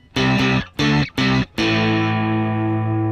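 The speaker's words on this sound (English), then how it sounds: "Still feel like for an overdrive, it's a little bit distortion-y almost." An electric guitar through an overdrive pedal, single-coil neck pickup, plays three short, choppy chords, then lets a final crunchy chord ring out and sustain, gritty, loud and almost distortion-like.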